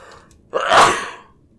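A single sharp, close sneeze erupts after a quiet moment, bursting loudly and then trailing off quickly into a faint breathy tail.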